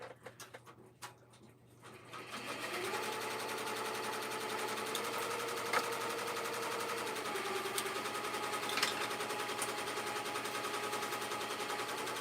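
A sewing machine stitches elastic in a small home workshop, starting after a brief pause and then running in a continuous, steady rapid whir close by for about ten seconds.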